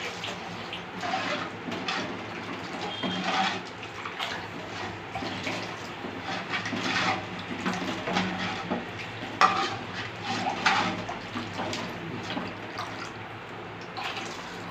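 Rice-washing water pours and splashes into a bubbling pot of spicy fish curry, a steady wet hiss with small drips and stirring sounds, close up and with no voices.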